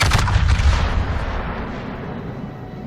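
The main guns of the battleship Yamato fire in a naval warfare video game, a loud deep boom at the start that rumbles and slowly decays over the following seconds.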